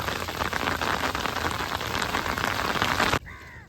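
Steady, dense downpour of heavy rain hissing across a surface, loud and continuous, cutting off abruptly near the end.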